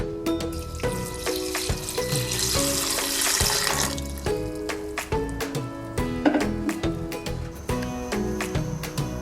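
Water is poured from a cup into a pot of whole tomatoes for homemade ketchup, a steady splashing stream with clinks, close and fairly loud, with music playing underneath.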